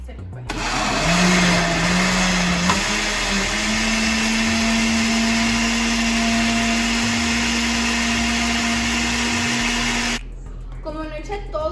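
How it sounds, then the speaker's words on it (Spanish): A kitchen blender whirs loudly and steadily as it purées melon with water for agua de melón. Its motor pitch rises slightly early on, then holds for about ten seconds before cutting off, leaving faint clatter. "ahorita ya nomás lo voy a licuar para que pues se licue"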